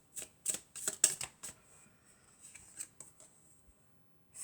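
A deck of tarot cards is shuffled by hand in crisp, close riffling bursts, with a louder flurry at the start and quieter intermittent riffles afterward. Nobody speaks.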